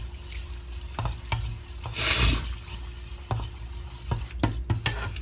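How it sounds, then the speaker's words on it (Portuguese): Flour being mixed with a spoon into a pizza poolish pre-ferment: a steady run of scraping, clicking spoon strokes against the bowl, swelling into a thicker, wetter churn midway, close and moderately loud with no talk. "E aí a gente adiciona a farinha e vai misturando, tá? Você pode até misturar com uma colher."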